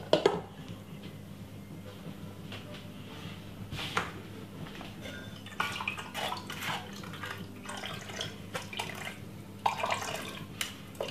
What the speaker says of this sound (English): Just gonna pour off it, just like that.